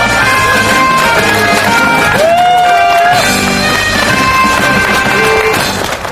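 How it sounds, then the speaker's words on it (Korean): A large crowd at an outdoor labour union rally cheers and shouts loudly for the union chairman, with a sustained roar of voices and whoops under amplified sound. "힘찬 박수 부탁드리겠습니다"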